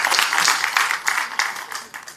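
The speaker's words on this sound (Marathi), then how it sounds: "टाळ्या वाजवून सगळ्यांनी स्वागत करा" Audience at a political event applauding, a short burst of dense clapping that rises and fades in waves, fairly close and loud.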